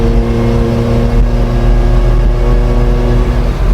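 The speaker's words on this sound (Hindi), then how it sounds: "इस इंजन को ना चलाने में जो मज़ा आता है ना, देखो ये कोई टर्बो इंजन नहीं है" A Maruti Gypsy's non-turbo engine drones steadily while driving in fourth gear, a loud continuous low hum heard close and alone, without talk.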